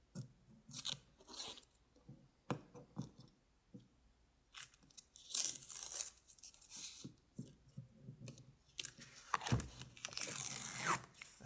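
Holographic PVC vinyl peeled off a Cricut cutting mat in a craft setting, giving intermittent crinkly tearing and crunching bursts, close and moderately loud, with quieter pauses between pulls.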